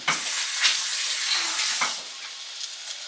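Seasoned beef chunk searing in a hot Dutch oven for pot roast, a steady loud sizzle and hiss throughout with a few sharper crackles and spits, close and unbroken by speech.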